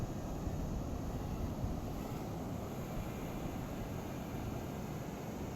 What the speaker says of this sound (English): this thing is going to take off to about 3 feet off the ground, and then it's going to hover and wait for your commands